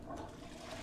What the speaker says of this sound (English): let me flush this real quick